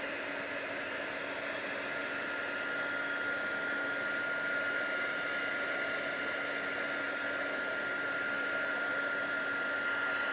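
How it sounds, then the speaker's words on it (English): An embossing heat tool blows hot air over a card in one constant, close whirring roar that stays even from start to finish, with no talking. "you can start with your heat tool"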